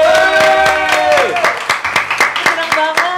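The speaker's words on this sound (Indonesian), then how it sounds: "Kita berikan tepuk tangan yang meriah untuk Soraya Rasyid." A studio audience on an Indonesian talk show claps in a quick, rhythmic beat to welcome a guest, with loud, upbeat music playing alongside.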